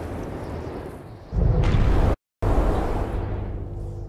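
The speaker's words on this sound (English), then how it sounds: "I need to wait for that gust of wind then" A gust of wind in the video game Never Alone, set in a snowy Arctic landscape: a soft breathy background rises into a loud, low roaring blast, cuts off abruptly, then resumes as a long fading rush.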